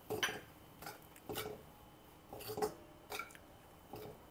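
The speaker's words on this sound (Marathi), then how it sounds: "आता आपण टाकूया यामध्ये भाजणी आणि चांगली परतून घेऊ" A utensil stirs and roasts bhajani flour in a pan, giving quiet metallic clinks and scrapes in a few separated bursts with soft gaps between them.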